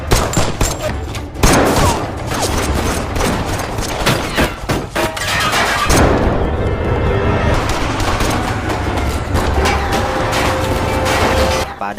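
Rapid bursts of gunfire crack through a police-versus-gangster shootout in a Donnie Yen action film, with dense, loud volleys layered over engine and crash noise, and a voice appears briefly.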